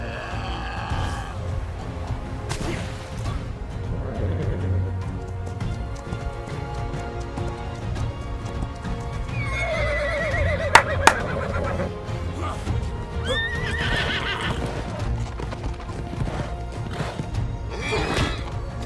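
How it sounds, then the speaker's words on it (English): A unicorn, a horse-like creature in the video game ARK Survival, whinnies and neighs over a busy game soundscape, with scattered hoof clops and a few sharp thuds. "Oh, there's a unicorn."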